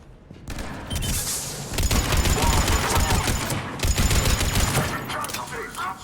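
Rapid gunfire bursts and automatic weapon fire from the video game Mass Effect 3, loud and dense over several seconds with echoing shots and game sound effects, voices faintly mixed in.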